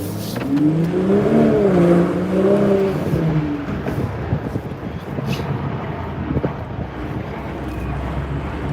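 A BMW accelerates hard to merge into traffic, its engine note rising and falling loudly for about three seconds before settling into a steady rumble of road and wind noise.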